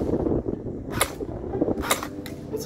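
A 60th anniversary Kalashnikov airsoft AEG rifle fires single shots, a few sharp, snappy cracks spaced about a second apart over faint background noise, with no voices.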